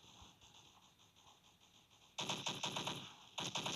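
Gunfire in a shooter video game starts with faint, distant shots, then bursts into loud, rapid automatic fire. A brief pause follows before another short burst, with no voices over it.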